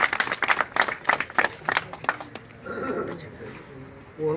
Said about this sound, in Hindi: इनके लिए स्पेशल तालियां होनी चाहिए